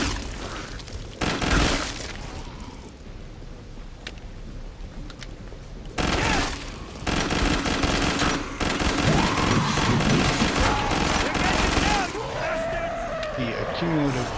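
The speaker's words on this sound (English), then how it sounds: "I'm burst firing this weapon, even though it only has a full auto" Short bursts of gunfire from a SWAT weapon in Killing Floor 2, loud and repeated in clusters, with heavy booming blasts, shattering impacts and other game noise throughout, and a voice talking over parts of it.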